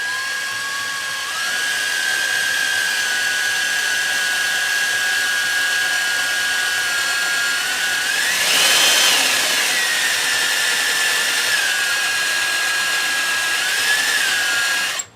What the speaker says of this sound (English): Holy crap, this is the hardest copper I've ever drilled.